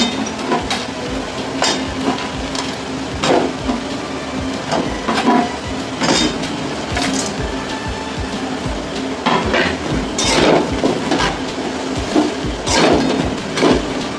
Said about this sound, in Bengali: এবার এর সঙ্গে আমি ম্যাগিগুলো ভেজে নেব